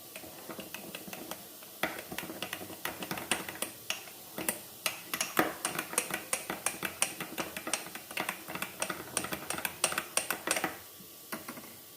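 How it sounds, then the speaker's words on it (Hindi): A spoon knocks and clinks against a bowl while naan dough ingredients with yogurt are mixed, a faint, irregular series of taps and scrapes that builds into a busier patter before trailing off. "और इन सबको अच्छे से मिक्स कर लेते हैं।"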